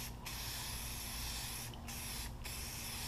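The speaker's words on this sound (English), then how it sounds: "I'm gonna put this matte clear coat on" Aerosol can spraying matte clear coat onto a rifle, a steady close hiss with brief pauses between bursts, over low background hum.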